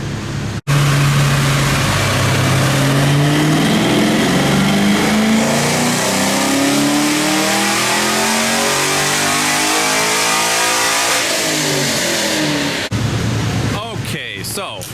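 A 5th-generation Camaro 1LE makes a dyno pull, its engine roaring loud and close in one long rising sweep for about twelve seconds before cutting off abruptly, followed by a short stretch of other noise.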